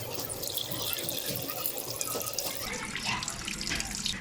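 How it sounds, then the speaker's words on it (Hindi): Garlic-infused water poured through a strainer into a large degi biryani pot, a loud continuous gushing stream with splashing, running steadily throughout without any voices. "छन्नी से छान कर इसका हम पानी डालेंगे"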